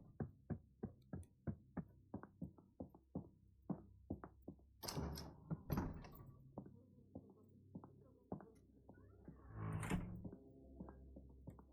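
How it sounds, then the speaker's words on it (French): In The Sinking City 2 video game, a door swings open by itself with soft creaks and thuds. Steady, evenly spaced footstep-like knocks run throughout at a quiet level. "La porte qui se vient tout seul"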